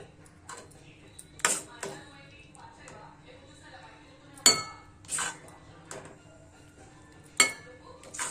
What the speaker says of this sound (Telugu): ఆ లోపల నేను స్టీల్ గిన్నెలకు మార్చేస్తాను.